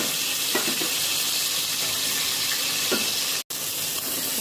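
Fish fry in hot oil in a kadai, giving a constant, bright, close sizzle, with a few soft pops and one brief cut-out near the end.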